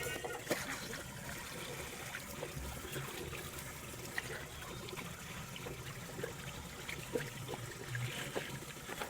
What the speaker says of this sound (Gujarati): હવે આપણા ફોનને આપણે બળફમાંથી કાઢીએ તો પાણી ચાલુ કરી દઈએ